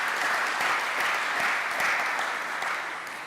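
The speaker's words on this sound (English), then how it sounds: "That deserves another round of applause." A dense, even round of audience applause fills a hall at an alumni day and hall of fame awards ceremony, loud and sustained and easing slightly at the end.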